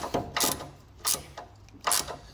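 A ratchet wrench tightens the bolts on bump stop extensions for a 1999–2004 Jeep Grand Cherokee WJ, giving several short metallic clicking bursts in an uneven rhythm, close and fairly loud.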